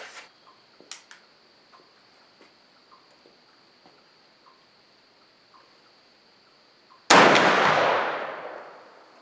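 A muzzle-loading rifle fires once at an outdoor range, a single loud, sharp blast that rings and decays over a couple of seconds, preceded by faint clicks and quiet background insect chirping.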